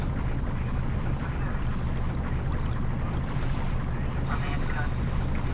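A ship manoeuvres on its thrusters in the Professional Ship Simulator game, giving a steady, loud, broadband engine and water rumble that holds constant throughout, with a faint tonal whine rising near the end.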